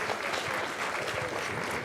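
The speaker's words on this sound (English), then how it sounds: "Round of applause for Christy, Libby, and Gary." Sustained applause from a conference audience for speakers at a planetarium paper session, a continuous even patter of many hands, fairly loud, with no speech over it.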